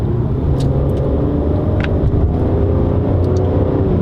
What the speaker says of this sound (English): Let's see how the transmission responds when you manually shift it with the pedals behind the steering wheel.